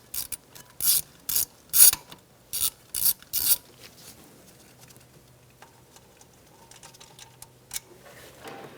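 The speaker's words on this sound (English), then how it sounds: "Using a 10mm socket, we're going to take out our bolt for our speed sensor." A ratchet with a 10mm socket turns out the speed sensor bolt on a 2002-2006 Honda CR-V, several short, loud clicking bursts in quick succession, then quieter handling noises.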